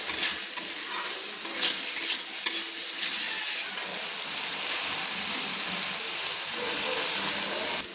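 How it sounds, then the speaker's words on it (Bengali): Onion, ginger and garlic fry in chicken juices in a pan for a Bihari-style chicken masala, a steady close sizzle broken by stirring scrapes and light clinks of a utensil. "দেখুন কি সুন্দর আমি কষিয়ে নিচ্ছি"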